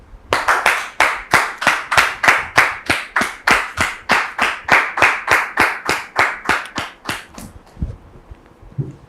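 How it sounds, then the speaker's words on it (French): Steady, brisk hand-clapping from a studio audience on a French television talk show set, about twenty evenly spaced claps running several seconds, then stopping abruptly with a faint low rumble left behind. "Nous recevons sur notre plateau Dame Madeleine sous vos applaudissements."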